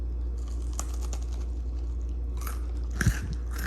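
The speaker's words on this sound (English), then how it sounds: "I'm not in the habit of letting you hear me chew," Crunchy chewing of a crispy Puerto Rican pizza hand pie filled with tomato sauce and melty cheese, close-up bites and crackling crunches that grow louder toward the end, with no talking.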